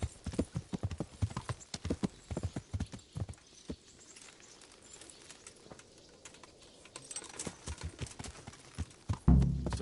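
Horse hooves clip-clop in Kingdom Come: Deliverance, a steady uneven patter of hoofbeats with birds and cooing doves in the background and a louder thump at the end.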